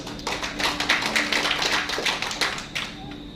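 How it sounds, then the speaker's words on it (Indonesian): A church congregation applauds for God during a Sunday service, producing dense, continuous clapping that stays steady and fairly loud for a few seconds. "Tepuk tangan bagi Tuhan ini."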